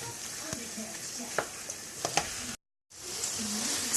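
Ground beef and vegetables with taco seasoning simmer and sizzle in a pan, a steady close hiss broken by light utensil clicks and stirring, with a brief cut to silence partway through.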